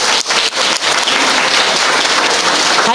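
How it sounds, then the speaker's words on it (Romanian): Loud, dense applause from a crowd at a village celebration in Căpâlna, welcoming a married couple, a continuous wash of many clapping hands close by with no talk over it. "Haideți să-i aplaudăm!"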